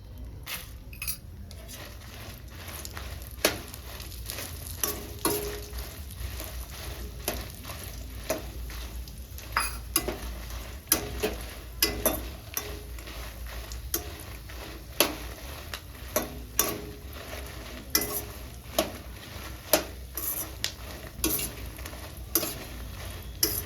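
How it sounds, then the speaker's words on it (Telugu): Dry red chillies and coriander seeds fry in a pan for gongura pickle, a steady low sizzle broken by frequent sharp clinks and scrapes of a spoon stirring against the metal, close and continuous. "చూడండి బాగా ఫ్రై అయినాయి మిరపకాయలు"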